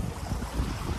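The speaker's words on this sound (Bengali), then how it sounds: "আর এত পরিমাণে হাওয়া, আসলে অনেক ভালো লাগছে।" Strong wind buffets the microphone on the bank of the Padma River, a steady low roaring rush with no speech.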